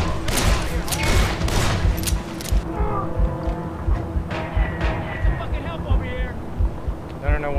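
Rapid gunfire in the video game Call of Juarez: The Cartel, a dense burst of crackling shots at the docks with scattered later pops, mixed with a steady rumbling background and voices talking over it.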